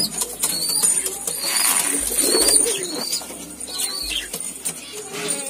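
Racing pigeons of the karna breed coo softly in a loft, mixed with wing flaps and scattered chirps, set against a steady background hiss; no one speaks.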